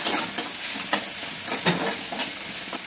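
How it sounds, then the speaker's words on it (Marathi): Vegetables sautéing in a hot pan for a breakfast upma, a steady sizzle punctuated by repeated scraping strokes of the stirring spoon every half second or so, close and clear with no talk. "घ्या आणि चांगलं परतून घ्या."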